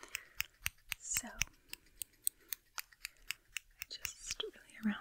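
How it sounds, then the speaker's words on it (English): Tiny scissors snip hair during an ASMR haircut, about fifteen crisp, close snips coming in a steady rhythm, with soft whispered talk and faint handling sounds between them. "I'm gonna get tiny scissors"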